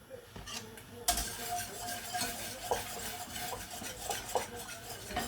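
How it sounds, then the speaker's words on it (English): Cheese sauce whisked in a pan for lasagne, a steady close scraping and swishing of the whisk against the metal with faint bubbling underneath, continuous for several seconds. "this is the bit where you need to keep whisking it"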